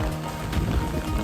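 Steady rain patters and hisses across a surface on a Hong Kong mountain military trail, a dense close wash of drops with no voices.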